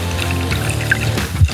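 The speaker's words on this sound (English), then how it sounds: "Yep, that's water." River water pouring and trickling, a loud close rushing flow with steady gurgling and a few splashy bubbles, continuous throughout.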